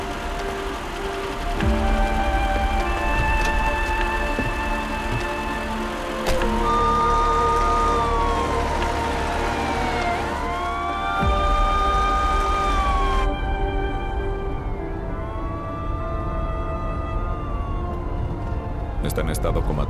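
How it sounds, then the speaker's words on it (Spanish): An ambulance siren wails with rising and falling tones from about 6 seconds onward, loud against a busy background, in a dramatic hospital emergency scene. "Ambulancia."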